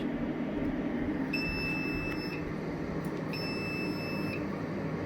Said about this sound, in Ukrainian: Пищить.